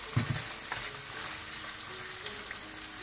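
Meat for Peshawari namkeen gosht frying in a pan, a steady soft sizzle with a few brief stirring scrapes near the start, close and moderately quiet with no voices.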